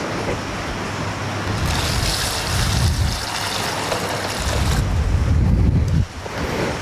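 Water drains from a container during acclimation of detritivores for a marine aquarium, a loud, continuous rushing and gurgling close to the microphone with surging swells, briefly dipping near the end.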